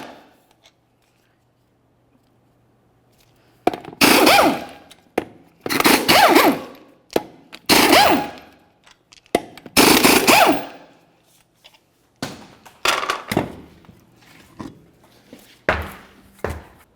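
Five 19mm lug nuts being removed from the wheel of a 2001–2005 Ford Explorer Sport Trac, loud bursts of a power tool in several separate bursts of a second or so with short gaps, then shorter rattling bursts.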